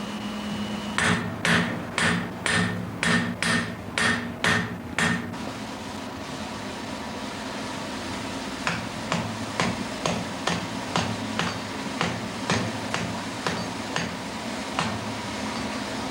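Red-hot metal hammered at a forge: a steady run of loud, sharp ringing blows, then a second series of lighter, evenly spaced strikes, with no talk.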